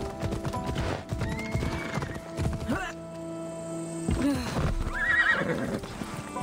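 Hoofbeats of a galloping horse in Assassin's Creed Odyssey, a steady clip-clop run broken by a loud neigh near the end, with game music and effects behind it.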